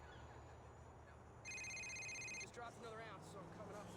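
A phone rings with a bright electronic tone for about a second amid a busy background of game sounds and other noises, with no clear speech over it.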